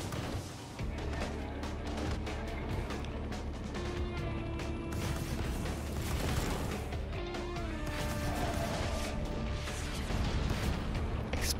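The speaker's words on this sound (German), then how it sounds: "Explosionen." Explosions and crashing destruction in the open-world action game inFamous Second Son, a dense, continuous barrage of booms and debris over a steady rumbling game soundscape, with no talk.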